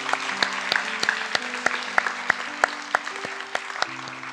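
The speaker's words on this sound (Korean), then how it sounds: "우리 격려의 박수 함께 보내드리겠습니다" A church congregation gives encouraging applause to its ministers and teachers, a soft, even patter of many hands with occasional sharper claps, while an organ or keyboard holds sustained chords underneath.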